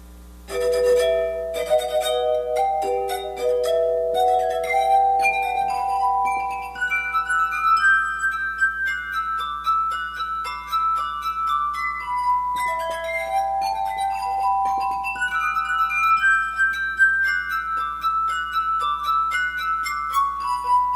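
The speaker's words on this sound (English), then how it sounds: "Here's a sample of the complexity that can be achieved by the other type of glass harmonica I mentioned, individual water-filtered glasses played with just the fingertips" A glass harmonica made of individual water-filled glasses, rubbed with the fingertips, plays a continuous ringing melody of pure, sustained glassy tones with overlapping chords throughout.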